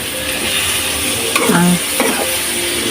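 A ginataang kamansi vegetable dish sizzles steadily in a pan while it is stirred, with a brief scrape and metallic clink partway through.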